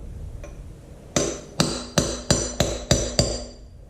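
A hammer strikes a steel chisel on a Farmall Super MTA tractor during flywheel removal, six sharp metallic blows in a quick, steady rhythm after a faint tap, close and loud with ringing decay.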